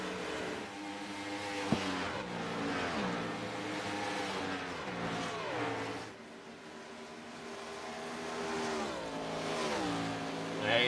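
Race cars roar around the oval in the FMA John Dobias Cup race at Atlanta, several engines revving and sweeping past in overlapping waves, loud and sustained.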